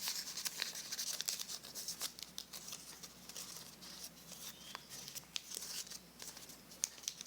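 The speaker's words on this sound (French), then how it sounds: "Il faut d'abord, j'ai oublié une étape, retourner le pli comme ça." Paper being creased and folded by hand into an origami monkey, with soft crinkling, rustling and occasional sharp crease snaps, quiet and close.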